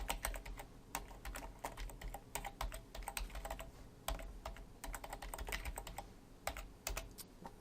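A computer keyboard is typed on in uneven bursts of crisp, close clicks, some keystrokes louder than others, with short pauses between runs.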